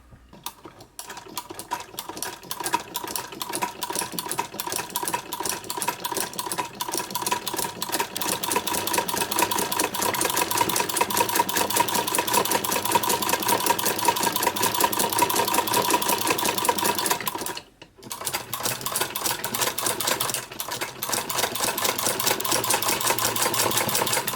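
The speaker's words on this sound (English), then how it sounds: "we could actually put the unit on the machine and watch it working with the cover off" A Greist rotary buttonholer attachment runs on a sewing machine with its cover off, giving a steady, fast mechanical clatter that continues for about 24 seconds. One brief pause comes near the end before the whirring resumes.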